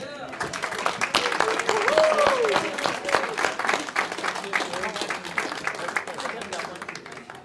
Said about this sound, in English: shall we put a nice round of applause and bring them back on?